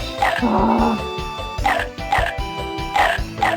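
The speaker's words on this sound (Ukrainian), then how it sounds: "Так іде пес." A dog in the Dreamcast game 102 Dalmatians: Puppies to the Rescue barks in several short bursts, loud and close, over a steady thumping game music loop.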